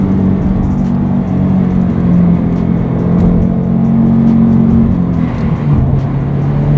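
Subaru Legacy S401 pulling in second gear from low revs, a loud steady engine drone rising slightly in pitch with a constant rumble heard from inside the car.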